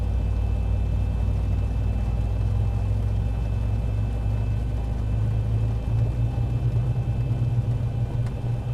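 A Boeing 737-800 jet engine spools up in the X-Plane 11 flight simulator, a steady heavy low rumble with a faint high whine, continuous and even throughout.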